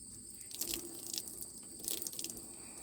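Soapy water is squeezed out of a wet Icelandic wool fleece in a 5-gallon bucket, giving two faint, close, squelching squishes separated by quiet.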